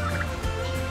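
Backyard turkeys gobble in a short, close burst of rapid, warbling calls, with no talking.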